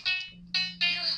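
A mobile phone ringtone plays in two bright, tonal bursts with a short gap between them, close and fairly loud against a quiet room.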